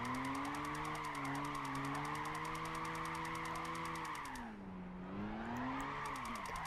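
Sustained engine roar and tire skid from a Toyota Tacoma drifting in Gran Turismo 5, holding steady for several seconds, then sagging as the slide slows before the revs swing back up.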